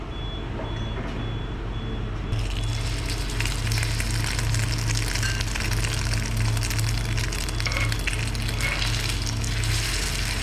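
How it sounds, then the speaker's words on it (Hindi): Shami kebabs fry in a pan with a little oil, a loud, dense, continuous sizzle and crackle that grows fuller after the first couple of seconds and holds steady up close, with no speech. "जितने मुझे ज़रूरत है मैं उतने फ्राई करूँगी और हल्के तेल में करने हैं।"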